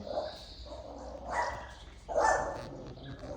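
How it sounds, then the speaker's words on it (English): A dog barks somewhere off at a distance in central Portugal, two short bursts of barking rising over steady outdoor background noise. "Oh, the dog over there does not like it one bit."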